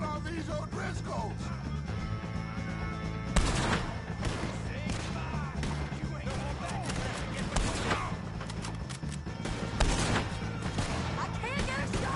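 Gunfire in the video game Red Dead Redemption 2 during a shootout with O'Driscolls, repeated loud gunshots and volleys with sharp cracks and booms, with voices talking and shouting among them.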